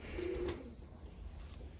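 A black white-tailed pigeon gives a short, low coo near the start, followed by quiet background hum and faint rustling.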